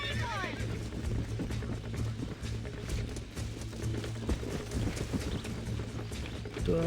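Galloping horse hooves in the video game Red Dead Redemption, a steady rapid clatter held up through the whole stretch, fairly loud and close, with game sounds and talk layered over it.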